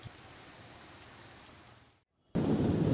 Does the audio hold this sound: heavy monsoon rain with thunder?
yes